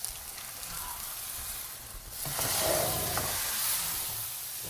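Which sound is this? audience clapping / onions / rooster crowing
onions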